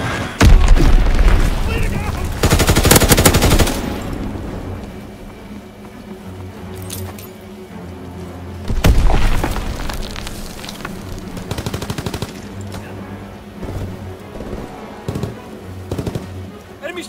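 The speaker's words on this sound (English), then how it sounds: "Enemy bomb incoming! Get to cover!" Bombs blast and gunfire crackle in a Call of Duty WWII battle, with a loud burst of explosions early, another heavy boom midway, and continuous rumbling combat in between.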